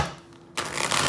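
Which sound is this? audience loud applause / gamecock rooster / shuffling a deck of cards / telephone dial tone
shuffling a deck of cards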